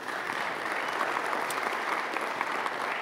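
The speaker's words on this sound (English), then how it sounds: "give them a round of applause" A crowd claps steadily throughout, a dense even patter of applause at moderate distance at a Liberty University convocation, with no speech.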